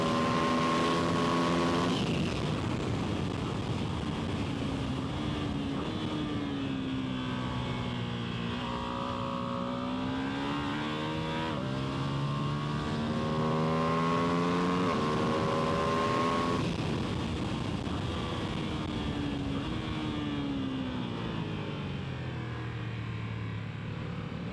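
A 2025 Ducati Panigale V2 S motorcycle races around a track, its engine note rising and falling through gear changes and repeated revving, loud and continuous with wind rush.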